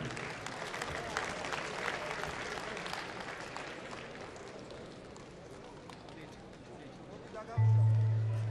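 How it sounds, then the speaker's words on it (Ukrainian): An audience at a freestyle wrestling final in the 74 kg class applauds the wrestlers. The clapping is steady and fairly loud at first and fades slightly, with an announcer speaking over it. "Підтримаємо їх аплодисментами"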